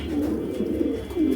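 A breeding pair of pigeons coos nearby in deep, throaty, repeated murmurs that are loud and steady, with no talk over them.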